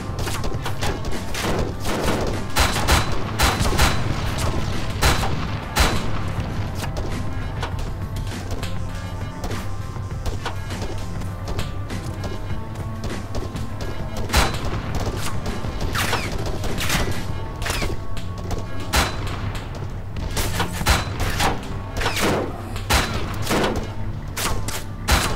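Rapid, sustained gunfire from the video game Arma 3, with dense bursts of shots and heavy impacts cracking over a constant low rumble, loud and unbroken with no talking.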